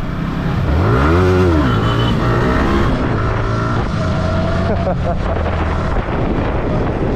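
Motorbike engine revs hard and loud, pitch sweeping up and back down as the rider pulls a wheelie on a hill road in Bandarban, followed by a lower steady run, with a voice in the background.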